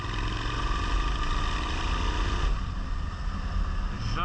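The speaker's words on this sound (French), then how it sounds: "J'adore cette moto." Suzuki SV 650 motorcycle riding at steady speed, a continuous loud engine drone with wind rush, tone shifting slightly midway as revs change, no talking.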